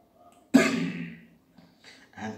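One sharp, loud cough bursts out, then fades over about a second, followed by a couple of softer throaty coughs.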